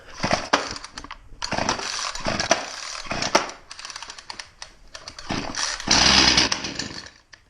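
A gas chainsaw with its choke pulled sputters and catches, its small engine bursting into loud, close revving in uneven spurts, cutting out and firing again several times before a sustained high roar near the end.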